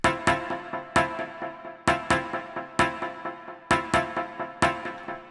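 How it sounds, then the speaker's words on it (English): On a Korg Triton, a Club Electric Piano preset made of stacked electric piano samples and shaped by a notch filter plays clanky, bell-like chord stabs in a steady syncopated rhythm, clear and alone. "So this is an electric piano sample stacked up with another electric piano sample here."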